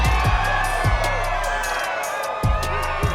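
A crowd in the Minecraft video game cheers and whoops loudly over deep rhythmic thumps, a dense, busy roar with bursts of excitement running throughout.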